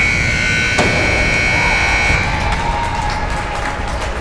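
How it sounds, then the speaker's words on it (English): An end-of-game buzzer at a hockey arena during a Bemidji versus Hermantown regional game, a loud steady tone lasting about two seconds over constant crowd noise and cheering. "So the buzzer sounds. That does it for this game."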